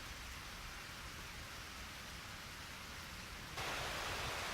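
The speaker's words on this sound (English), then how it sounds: "it's pouring down rain like this" Steady pouring rain in the video game Eternal Sonata, a dense even hiss that swells louder near the end, with no voices.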